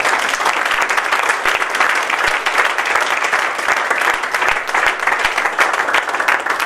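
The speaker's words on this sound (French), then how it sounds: "Acclame le Seigneur très fort" A church congregation claps and cheers in praise of the Lord, dense steady applause filling the whole stretch at close range with no talking over it.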